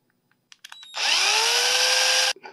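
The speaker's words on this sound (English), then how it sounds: "I'm just going to clean that up with a drill." A power drill clears out a hole in a 3D printed nose gear part for a small RC plane, a few short clicks and blips followed by a loud steady whir for about a second and a half, then stopping.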